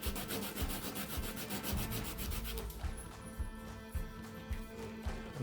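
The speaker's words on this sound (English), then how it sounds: "See, the sandpaper does a pretty good job." Close, rhythmic scraping of sandpaper against a custom action figure part, rapid even strokes at first that give way to slower, scattered rubs and light handling noises.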